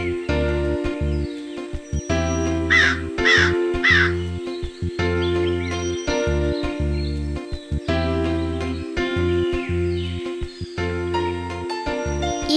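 Crows caw in a Kannada animated cartoon about a grandmother and crows, a cluster of loud, repeated caws rising over a steady background music bed.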